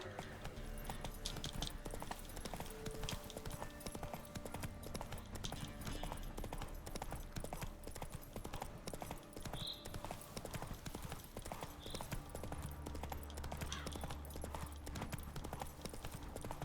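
Hooves of the horse Roach clip-clop steadily in The Witcher 3 game, a continuous close galloping rhythm throughout with a brief whinny-like sound and no talk.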